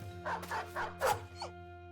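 Dog (hound) in the video game Battle Brothers barking a few quick yips and a brief whimper, close and clear over a low steady game hum.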